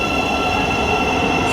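A train runs through the low level platforms at London St Pancras International, close and loud, with a steady rumble of wheels and a high, sustained squeal from the rails.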